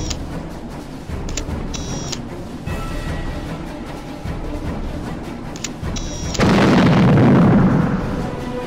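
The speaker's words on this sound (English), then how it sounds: "I'm not necessarily good at rocket jumping. But it is fun." Rocket-jumping explosions in a first-person shooter, a heavy blast roaring in near the end after earlier small launches and mechanical clicks, the rumble sustained for a couple of seconds.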